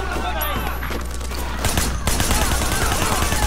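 Gunfire in the video game Sleeping Dogs crackles in rapid bursts over a dense, noisy game mix, growing louder and busier partway through.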